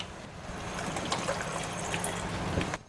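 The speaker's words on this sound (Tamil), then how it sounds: "இதில் இன்னும் கொஞ்சம் நம்ம தண்ணி சேர்த்துக்கலாம்" Water trickles and splashes steadily into a pan of peas gravy, a continuous close pour for nearly three seconds before it stops abruptly.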